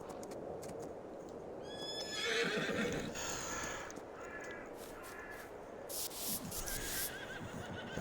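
Horse neighing in Farming Simulator 22, several loud whinnies close by with clip-clopping hooves, while crows caw in the background.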